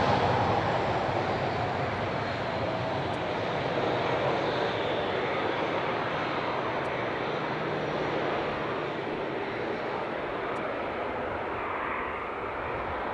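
An Airbus A321 airliner's jet engines give a loud, steady broadband roar on the runway at Leeds Bradford Airport, heard from nearby and continuous throughout.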